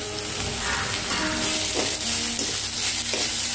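Chopped carrot and softened onion sauté in oil in a pan, producing a continuous close sizzle with occasional stirring scrapes.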